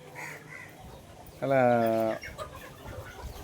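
Country chickens for sale in Tuticorin, one giving a single loud, drawn-out squawk close by amid faint background clucking, while someone talks nearby.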